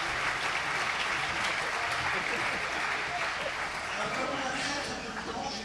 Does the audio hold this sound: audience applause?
yes